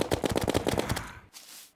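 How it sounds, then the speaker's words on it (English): Fast burst of gunfire during a shooting session, a rapid string of about ten loud cracks in quick succession, then a short fading tail and a brief hiss, with no talking. "I can't hear a thing while I'm shooting"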